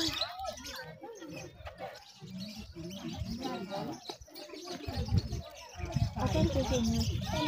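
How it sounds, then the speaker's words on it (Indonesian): Bird cooing and chirping outdoors at a dairy farm in Sirukam, Solok, heard intermittently under near, ongoing conversation. "Tuh burung."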